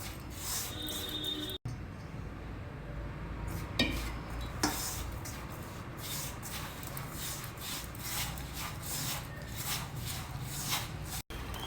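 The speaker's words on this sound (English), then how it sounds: "Now add the syrup little by little to the flour and mix it well." Spoon scraping and stirring syrup into flour in a bowl for sweet seedai dough, a steady close rubbing and clinking texture that runs throughout, with a few brief knocks against the bowl.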